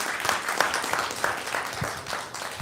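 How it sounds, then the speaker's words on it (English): A steady round of applause from an audience at a health talk, dense continuous clapping at moderate loudness with no speech over it. "can we please give Bishop a hand of applause?"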